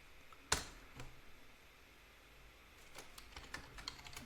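A passphrase is typed on a computer keyboard: one sharp key clack, then scattered quiet keystrokes in a short burst, close and soft.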